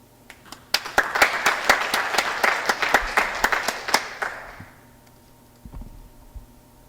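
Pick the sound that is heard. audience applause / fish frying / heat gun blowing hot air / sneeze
audience applause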